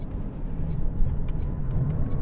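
A 2023 Toyota Prius Prime is heard from inside as it is driven through a turn, giving a steady, continuous low road and engine rumble with no speech over it.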